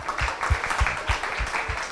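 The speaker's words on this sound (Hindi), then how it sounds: "ताली बजाते रहो" A group claps in a steady, quick rhythm at a Deepavali celebration with Madhubanvasis at the Om Shanti Retreat Centre; the claps are close and even, with no talking.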